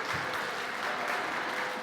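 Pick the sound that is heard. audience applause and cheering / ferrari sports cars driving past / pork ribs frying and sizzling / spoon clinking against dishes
audience applause and cheering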